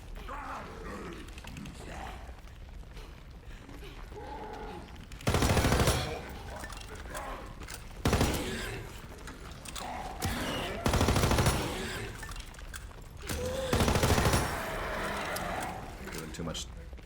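Gunfire in a Zombies video game on the map The Darkest Shore comes in several loud, distinct bursts, each about a second long, spaced apart over a low game background.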